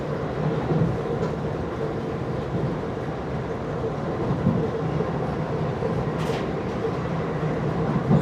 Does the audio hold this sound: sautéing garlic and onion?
no